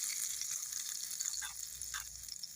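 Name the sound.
tadka tempering sizzling into garlic spinach (lahsuni palak)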